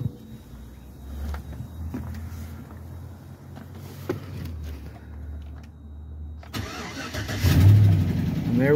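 A GMT900 GM Silverado pickup engine cranks and starts after a fuel system control module bypass. A steady low hum with clicks runs first, then the starter cranks and the engine catches and settles into a loud, rumbling idle nearby.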